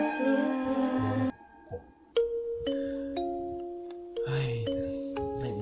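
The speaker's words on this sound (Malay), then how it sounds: "ada orang tekan loceng" A doorbell rings several times with a ding-dong chime, each tone ringing out cleanly, mixed with other faint sounds between the chimes.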